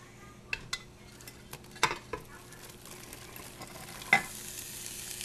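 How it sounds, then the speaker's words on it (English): Onions frying in a nice warm pan, a soft low sizzle under scattered clinks and scrapes of a utensil, with a few sharp knocks and a louder clatter near the end. "I'm going to take those onions, I'm going to put them into a nice warm pan"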